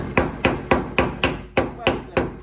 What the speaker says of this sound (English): I'm just chipping away